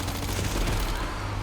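Gunfire from the video game Resident Evil Requiem rattles in a dense, loud burst of rapid shots, one on top of another, with no voices.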